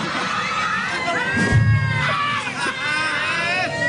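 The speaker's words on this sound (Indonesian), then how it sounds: "pada heboh banget perempuan" A crowd of women screams and cheers excitedly at a televised interview, loud shrill voices close by with high rising shrieks and a surge of noise midway, continuing throughout.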